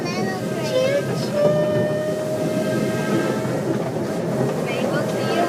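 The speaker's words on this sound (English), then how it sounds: "I see another train." A train rolls past at a station, a steady loud rumble with a sustained horn-like tone and rail clatter, as a child and an adult talk over it.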